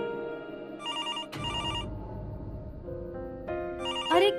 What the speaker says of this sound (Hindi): अगर मोबाइल फोन नहीं उठाया ना तो ऐसे लैंडलाइन पे कॉल आते हैं।